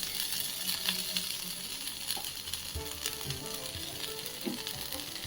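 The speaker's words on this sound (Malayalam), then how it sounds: "ഉള്ളി വെച്ചിട്ട് നന്നായിട്ട് ഇളക്കി എല്ലാം ഡ്രൈ ആവണം" Onions frying in a pan for a potato fry, with a steady sizzle and occasional stirring scrapes and clinks of the spoon throughout, fairly close and with no talking.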